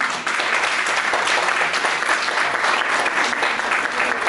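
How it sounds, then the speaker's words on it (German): A crowd at a festive cultural festival opening applauds steadily, a dense even wash of clapping lasting the whole stretch, with no talk over it. "Dafür noch einmal Applaus, bitte."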